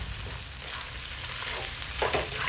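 Garlic and onion fry in a hot pan with a steady, close sizzle and crackle, a brief louder burst near the end as the food is stirred; no one speaks.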